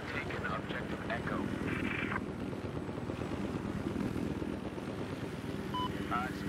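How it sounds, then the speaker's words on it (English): An enemy helicopter in Battlefield 4 drones with steady rotor noise and whirring engine, running continuously beneath radio-style voice chatter and game effects. "I spotted an enemy helicopter east of your position."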